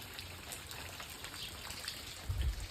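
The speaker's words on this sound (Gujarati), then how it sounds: "એમ ઝરમરિયું ચાલુ જ છે." Light drizzle keeps falling outdoors during the evening. It makes a faint, steady trickle and patter throughout, with a soft low thump near the end and no voices.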